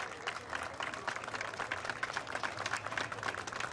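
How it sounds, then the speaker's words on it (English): An outdoor festival crowd claps steadily in applause, a dense patter of many hands continuing throughout without pause. "Let's give them all a round of applause."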